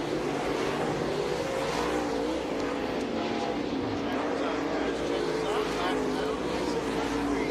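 Dirt late model race cars circle the track at Lernerville Speedway during a hot lap session, a steady dense engine roar throughout with a commentator talking over it.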